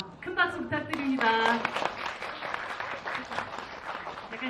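Applause breaks out at a special screening event in a Lotte Cinema hall for the film about Yu Gwan-sun, scattered clapping that thickens after a moment, with voices heard over the start.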